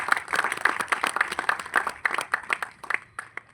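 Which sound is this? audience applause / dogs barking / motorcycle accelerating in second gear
audience applause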